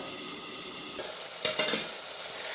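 Dried field beans being gently sautéed in a pan give off a steady soft sizzle, with a few brief stirring scrapes near the middle; no one speaks.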